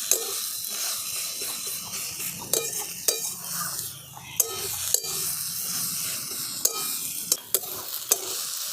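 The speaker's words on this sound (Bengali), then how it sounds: "এবার সব একসঙ্গে ভালো করে মিশিয়ে নিচ্ছি, মিশিয়ে ভাজা ভাজা করে নেব" Drumstick leaves (sajne shak) stir-fried in a pan give off a steady, close sizzle, broken by sharp, regular clicks and scrapes from the stirring utensil.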